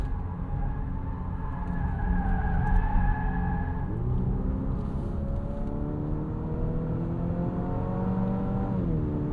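A 2027 Infiniti QX65 turbo coupe SUV is driven hard into a corner on all-season tires, its engine droning loud and close as it brakes, turns in and pulls through with pitch sweeping down, then rising.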